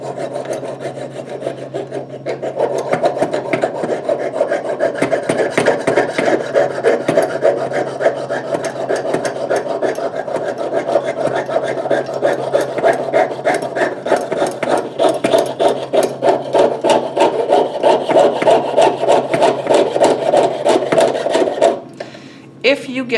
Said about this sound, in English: So you'll see as I saw, I gradually turn the metal.